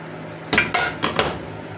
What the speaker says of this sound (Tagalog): Ayan, ibabaliktad na natin ang ating cake.